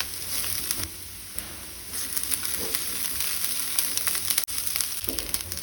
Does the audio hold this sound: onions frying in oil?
yes